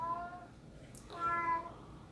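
A pet cat gives two short, faint meows indoors, one near the start and a slightly longer one about a second later, with a soft click in between against a quiet room.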